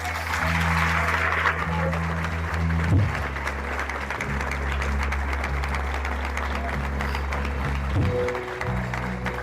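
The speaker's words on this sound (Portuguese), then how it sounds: "Vamos aplaudir o Senhor." A church congregation applauds during a service, sustained clapping over a low sustained musical drone, with no pause across the whole stretch.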